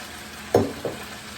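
Meat sauce for lasagna stirred in a pan, two quick scraping, wet stirring strokes over a low background hiss.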